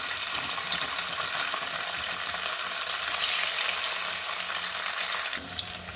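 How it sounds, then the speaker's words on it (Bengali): Paneer pieces frying in a pan for a masala paneer curry, a loud steady sizzle that runs unbroken for the whole stretch and eases slightly near the end. "দেখুন পনিরগুলো ভেজে নেব আমি"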